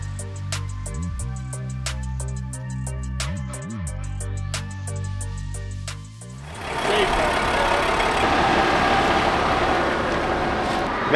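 A large diesel bus engine idles with a steady low rumble and periodic knocks, then a louder broadband roar of revving takes over for the remaining seconds.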